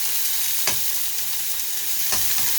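Samgyeopsal pork belly grilling for dinner gives a steady, close sizzling hiss with a few sharp spits and crackles, with no voices.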